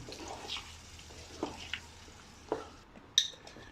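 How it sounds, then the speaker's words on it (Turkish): Tomato puree being stirred into fried tomato paste for a buttery Iskender sauce, with quiet scraping and wet stirring strokes and a few light utensil clinks against the pan, close but soft. "Şimdi domates püremizi ilave ediyoruz. Hemen şöyle karıştırıyoruz iyice birbirine."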